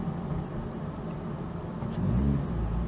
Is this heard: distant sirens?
no